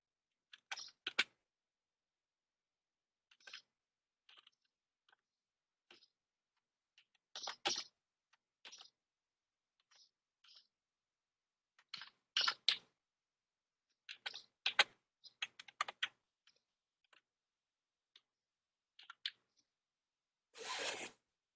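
Typing on a computer keyboard in short, quiet bursts of clicking keys separated by pauses, close and isolated.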